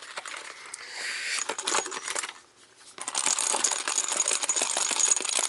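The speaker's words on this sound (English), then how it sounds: "as hard as I shake it, the flap doesn't come undone" A Nintendo 3DS Legend of Zelda adventurer's pouch is shaken hard, producing a continuous close rattling, jingling clatter that pauses briefly before resuming more loudly, with no talk.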